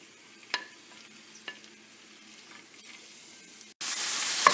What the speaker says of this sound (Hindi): Cooking oil 1 table spoon oil. इन सबको फ्राई कर लेते हैं 1 मिनट।